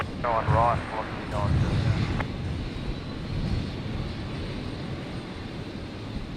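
A Qantas airliner starts its takeoff roll at Brisbane Airport, its engines giving a steady, distant roar, with a voice talking briefly over the start.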